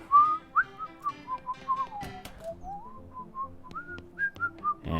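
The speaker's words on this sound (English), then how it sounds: "And here we are, some whistling." Melodic whistling in the video game West of Loathing, a clear solo tune of sliding, wavering notes with short pauses, close and moderately loud with no talking.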